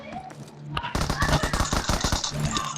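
Rapid automatic gunfire from a bot in an online shooter game, a dense burst of close, loud shots after a short lead-in, with a voice speaking under it.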